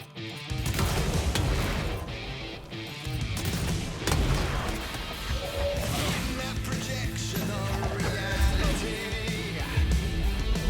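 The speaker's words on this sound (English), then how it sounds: "There's like a little graviton surge effect on it too, where there's an initial explosion that kind of sucks enemies in, and then a secondary one" Video game Control combat fills the scene with a dense, loud run of weapon blasts and crashing impacts, repeated bursts and booms over a rumbling layer that barely lets up, with a voice briefly talking near the end.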